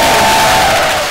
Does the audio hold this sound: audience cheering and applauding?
yes